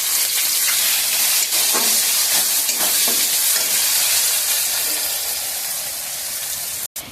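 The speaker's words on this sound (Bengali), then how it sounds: "পেঁয়াজ ভাজা হয়ে গেছে" Chopped onions fry in a pan with whole garam masala, giving a dense, loud, hissing sizzle with faint stirring scrapes, steady until a sudden brief cut near the end.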